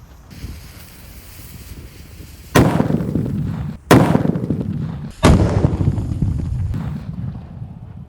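Three imported firecrackers go off one after another outdoors on a windy day, each a sharp, loud bang trailing off in a long rumbling decay, with steady wind noise buffeting the microphone between blasts.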